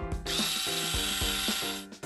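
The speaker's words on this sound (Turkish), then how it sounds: "Tornavida zamanı." An electric screwdriver driving a screw during a home build, a close, loud whirring motor that runs steadily for about two seconds with faint ratcheting clicks.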